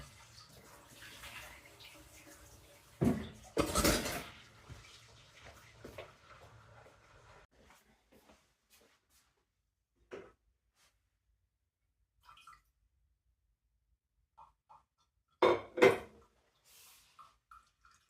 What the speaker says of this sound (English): I'm going to clean the saucepan again.